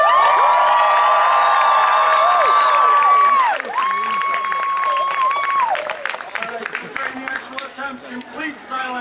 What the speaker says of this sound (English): Complete silence, then spontaneous eruption of applause at the end.